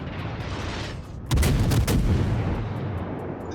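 Naval guns in a World of Warships-style battle fire a salvo at a reversing battleship. Loud booming reports overlap into a dense rumble over continuous engine and ambient game noise.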